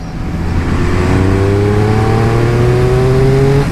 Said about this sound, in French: C'est l'échappement d'origine, et honnêtement, il fait le taf.